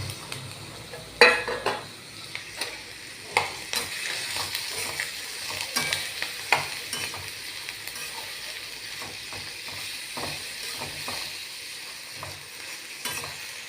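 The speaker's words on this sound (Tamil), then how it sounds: "இந்த எண்ணெயில் இந்த பூண்டும் பிரண்டையும் நல்லா பொரியிற அளவுக்கு, நல்லா மெரூன் சைடு வர அளவுக்கு நம்ம நல்லா வதக்கி எடுத்துக்கலாம்." Garlic and pirandai (veldt grape) fry in sesame oil, a steady close sizzle with scattered clicks and scrapes as the pan is stirred, no voices.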